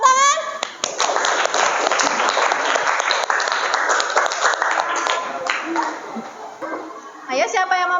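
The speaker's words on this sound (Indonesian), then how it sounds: "Tepuk tangan." Classroom students clap together for a presenting group, a lively burst of handclaps running most of the clip with children's voices mixed in, then tapering as a teacher's voice comes back at the end.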